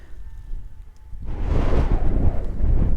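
Strong wind buffets the microphone on a hilltop path in the fells near Glenridding, starting as a low rumble and then bursting into loud, continuous roaring gusts.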